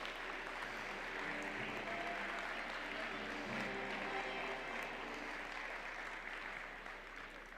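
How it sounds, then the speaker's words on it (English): A large indoor audience at a robotics competition event gives a sustained, even round of applause that stays dense and loud throughout, easing off slightly at the very end. "let's give them a big round of applause"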